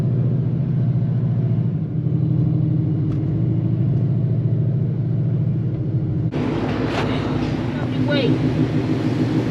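A modded S550 Mustang GT rolls along a rough, badly surfaced road, its engine a low steady rumble with bumps and road noise throughout, and the cabin noise gets brighter near the end.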